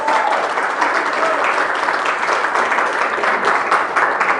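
Sustained applause from a church congregation, dense steady clapping filling the room without pause, with faint voices mixed in.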